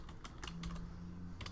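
Computer keys are tapped in a quick irregular run of close clicks, with a pause in the middle, over a faint low hum.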